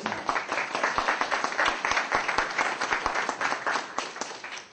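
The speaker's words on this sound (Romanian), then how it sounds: "Haideți să-L aplaudăm pe Domnul Iisus, să ne mai trezim puțin." A church congregation claps together in a dense, continuous round of applause that stays steady and fairly loud, with individual claps standing out in a quick rhythm and no voices over it.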